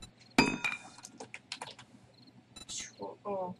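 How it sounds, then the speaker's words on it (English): Keys clatter on a computer keyboard in a quick irregular burst of clicks, close and fairly quiet, followed by a few scattered taps and some soft talking. "Oh, why am I typing it when I can just drag and drop?"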